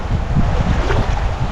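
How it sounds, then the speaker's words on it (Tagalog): Strong wind sweeps across a shallow rocky shore, roaring and buffeting the microphone in a continuous low rush with no voices. "malakas po yung hangin."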